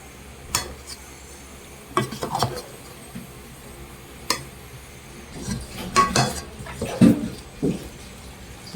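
Chicken being mixed with flour and egg in a bowl, soft wet stirring and scraping with occasional clinks of a utensil against the bowl, close and intermittent amid light background noise.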